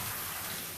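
Water running over a bulldog being rinsed in a bath, a steady close splashing wash that fills the moment with no talk.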